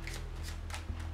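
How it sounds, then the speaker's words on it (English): Playing cards shuffled by hand in a poker cheating demonstration, a steady close riffle of card edges lasting about a second with rapid repeated flicks and no talk. "He shuffles 1 card and in-jogs it like this, and he shuffles the remaining on top"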